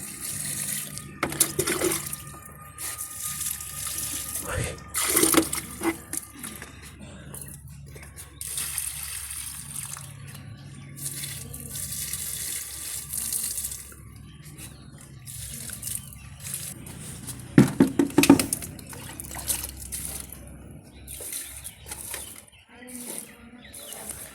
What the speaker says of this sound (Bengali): এখন দিচ্ছি গাছে জল